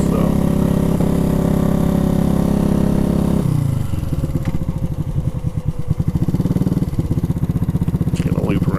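A motorcycle whose exhaust baffles have rusted out and gone missing runs loud and close, a raw buzzing drone that drops into a rapid, choppy, pulsing putter, with a harsh rev near the end.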